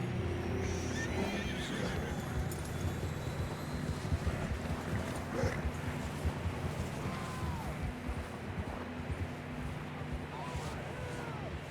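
Horse neighing and whinnying in the Western video game Red Dead Redemption 2, with a few whinnies rising out of a steady bed of wind, water and hoofbeat-like ambience, and no clear speech over it.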